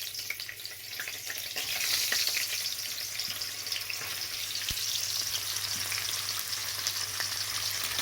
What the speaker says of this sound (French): dans une poêle, je vais venir faire sauter les saucisses que j'ai découpées